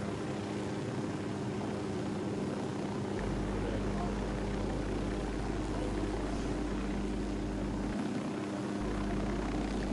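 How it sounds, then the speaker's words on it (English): Unidad military helicopter in the open-world shooter Ghost Recon Wildlands, a steady droning rotor and engine hum that holds throughout at a fairly constant level, with no talk over it. "No, I know, it's a unidad chopper."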